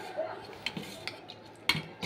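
Cutlery and dishes clink softly at a home meal as fish curry is served after a course of pui shak, with a few sharp metallic taps against quiet background murmur.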